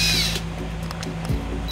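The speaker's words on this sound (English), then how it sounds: "You can see that you can use a quarter inch nut driver or a Phillips screwdriver head." A power drill with a quarter-inch nut driver spins a self-tapping tech screw into the steel body of a 2011 Ford Escape, a short close whine that bites and drops in pitch as the screw seats.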